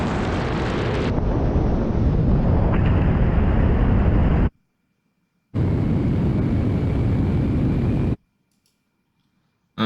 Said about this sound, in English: the plane turns right and heads south